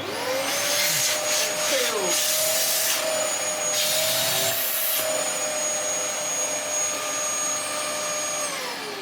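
A Dyson mini vacuum cleaner runs with strong suction, giving a steady, loud motor whine with a high airflow hiss. It holds level for the whole stretch, with brief rushes and rubbing noises as the nozzle moves, and no talk.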